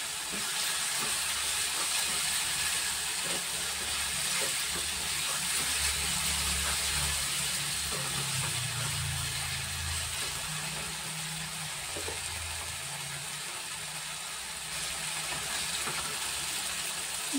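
Spice paste for desi duck egg kalia sizzles steadily in hot oil as it is sautéed, a dense, continuous frying hiss that holds at an even level from start to finish.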